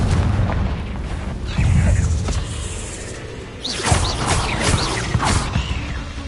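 Booming spell explosions in the Hogwarts Legacy video game, two heavy blasts with crackling bursts between them, loud and close with no talk.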